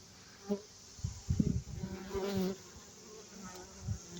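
Honeybees buzz close by at a hive entrance fitted with a pollen trap, the drone rising and falling in several short swells over a few seconds.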